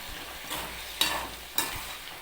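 A pan of tamarind pumpkin curry bubbles and sizzles softly, with a few brief louder bursts from stirring as jaggery is added.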